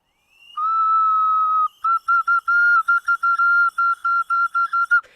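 A Scarlet Ocarina plays one long sustained pure note, then a quick run of short, evenly spaced staccato notes, bright, close and loud with no talking.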